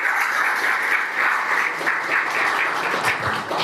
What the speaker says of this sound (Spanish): Un fuerte aplauso para el señor Alexander.